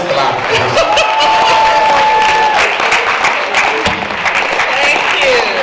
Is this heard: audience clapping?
yes